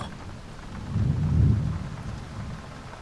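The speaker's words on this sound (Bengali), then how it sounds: "সময়ের সাথে সাথে বৃষ্টি আরো জোরালো হয়েছে।" Heavy rain pours steadily in a horror story setting while a deep roll of thunder swells and fades in the middle, close and full, with no voices.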